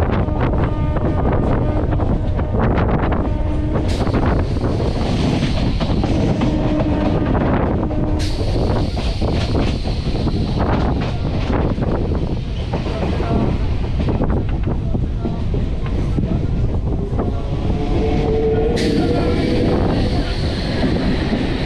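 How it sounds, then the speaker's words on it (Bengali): A train passes near Gocharan station in West Bengal, producing a loud, continuous roar and rumble with rattling wagons and wind buffeting the microphone throughout. "আর এখন যে ট্রেনটা যাচ্ছে এটা"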